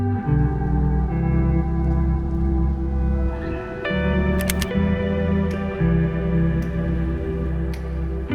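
Several sparse, crisp shutter clicks from a Panasonic Lumix GM1 camera during street shooting on a cloudy day, faint and brief beneath a loud, steady droning music bed.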